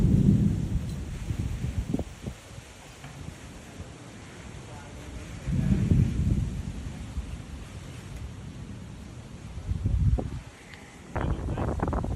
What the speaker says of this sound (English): You got a big storm?